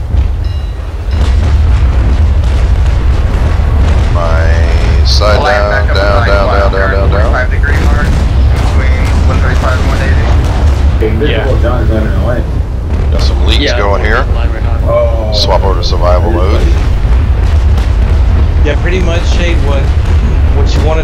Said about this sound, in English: I can't take, you know, broadsides over and over and over from these guys.